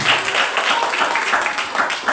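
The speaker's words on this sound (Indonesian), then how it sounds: "Tepuk tangan dulu boleh." Elementary school children clapping together at a Maulid Nabi lecture, steady and fairly loud, with a faint voice or two underneath.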